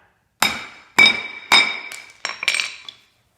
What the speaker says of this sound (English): Just position the flathead in there and give a good tap.